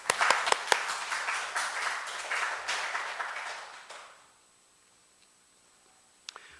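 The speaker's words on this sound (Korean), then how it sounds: "믿음에 대해 박수를 쳐야 되는 거 아닙니까?" Church congregation clapping during a Korean Sunday worship service, a lively round of hand claps lasting about four seconds before cutting off into near silence, with a couple of stray claps afterward.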